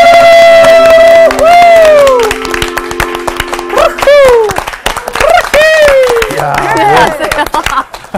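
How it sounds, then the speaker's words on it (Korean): A classroom of students claps loudly and quickly close by, with sharp hand slaps scattered through, while voices call out and chant in drawn-out tones over the clapping. "박수 치는 거 연습한 것 같아."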